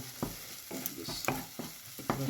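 Tomato masala is stirred in sizzling oil, with a quieter steady fry and a series of rhythmic scraping strokes from the spoon against the pan.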